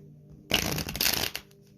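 Tarot cards riffle in one brief, close burst of shuffling that lasts under a second, on a quiet background.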